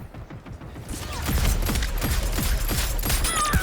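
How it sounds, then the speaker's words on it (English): Rapid hand cannon gunfire in the online shooter game Concord, a string of punchy repeated shots with metallic mechanism clicks over a busy game soundscape, fairly loud and close, no talking. "hand cannon coming up"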